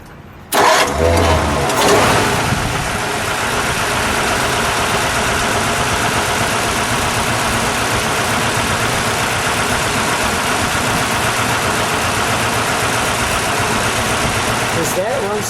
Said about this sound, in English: Let's fire it, shall we?